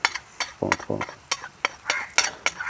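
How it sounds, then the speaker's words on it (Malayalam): Powdered spices, chili, turmeric and garam masala with rock salt, stirred and sautéed in a pan, with repeated spoon scrapes and clinks against the metal over a soft sizzle, close and moderately loud. "നന്നായിട്ടൊന്ന് നമുക്ക് മൂപ്പിച്ചെടുക്കാം"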